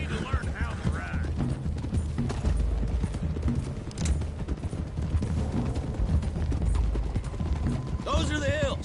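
Horses ridden along a road in Red Dead Redemption 2, with steady rhythmic hoof clip-clop and tack rattle, fairly close, mixed with game ambience and brief voices.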